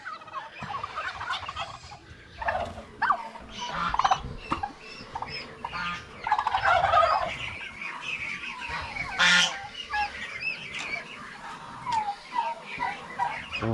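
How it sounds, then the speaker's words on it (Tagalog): Farmyard turkeys, a flock of mostly males, gobble in repeated bursts at close to moderate range over busy background noise, with other fowl calling now and then. "Yung mga pabo natin, oh."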